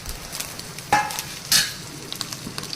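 Curry leaves and hot Guntur dried chillies fry in oil. Soft, close sizzling crackles throughout, with two sharper spits and bursts partway through, and no talking.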